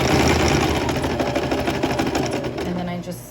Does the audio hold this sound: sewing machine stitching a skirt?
yes